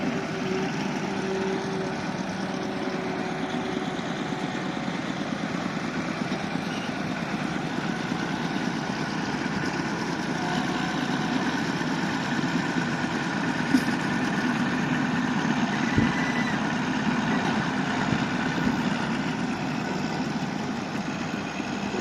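A backhoe's diesel engine idles in a steady, continuous drone at a sugarcane yard. It keeps a low rumble with a constant mid-range hum and holds an even level throughout, with no talk.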